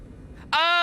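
A pet cat in a Cyberpunk apartment lets out a single short, tonal meow that starts abruptly after a faint, quiet room hum.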